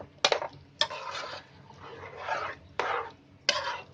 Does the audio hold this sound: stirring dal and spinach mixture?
yes